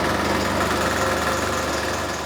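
A Tatra 148 diesel truck engine idling steadily at low revs during injection pump adjustment, a loud, continuous low rumble with even mechanical vibration, close up and without pauses.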